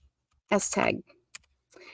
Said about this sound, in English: I have a new keyboard and my fingers aren't quite used to where everything is